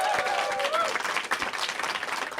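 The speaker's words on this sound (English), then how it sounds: "Let's give a round of applause to our storytellers again." An audience at a storytelling night in a taphouse breaks into a short burst of applause, dense clapping from a small crowd with a voice briefly heard over it.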